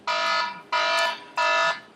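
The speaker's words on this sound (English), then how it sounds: "my timer is done." A timer alarm goes off with three loud, even electronic beeps in steady rhythm, each about half a second long, heard close and alone.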